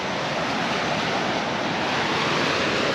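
Waves wash in at Batu Nenek beach in Temajuk, Kalimantan, as a steady, loud roar of surf with wind, and no voices are heard.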